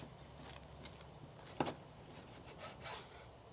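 A knife slices diagonally through a campfire-cooked beef Wellington, giving a faint, close scraping rasp through the pastry layers, with one sharper crunch midway.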